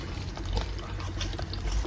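Coconut water pours in a soft, steady trickle, faint and close, with a few small splashes and drips and no talk over it.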